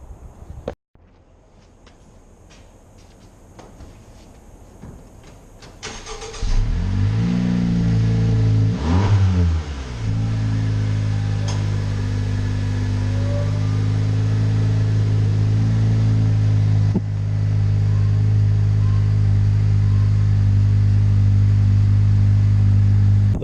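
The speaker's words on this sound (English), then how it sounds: "This exhaust is one of the best exhausts I've ever seen on a stock car" A 2017 Honda Civic hatchback starts after a few clicks, then its engine settles into a loud, steady idle through the stock exhaust, with one brief rev swelling and falling partway through.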